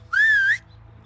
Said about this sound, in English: Why is that whistle so loud?